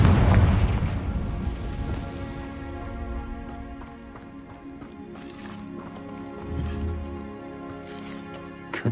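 A Confringo spell blast in Hogwarts Legacy, a loud booming impact that fades into a rumbling decay, with game music tones and scattered thuds and clatter behind it.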